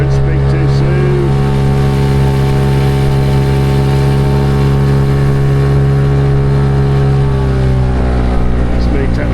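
A Hangkai 6hp outboard motor drives a small boat on a tidal waterway, running as a loud, steady close drone that eases slightly near the end as the throttle comes off.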